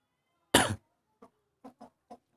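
Aseel cross hens clucking nearby: one loud, harsh squawk, then four short clucks spaced unevenly over the next couple of seconds.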